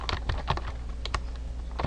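Quick, uneven clatter of keys on a computer keyboard as code is typed, close and clear with no voices.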